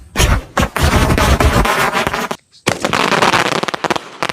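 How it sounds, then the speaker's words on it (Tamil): Sky shot fireworks and bijili firecrackers burst in a dense, loud crackling barrage at close range, the rapid pops running almost continuously with one brief gap of quiet before the volley resumes. "தண்டர் ஸ்ட்ரோக் அப்படின்ற ஸ்கை ஷாட்."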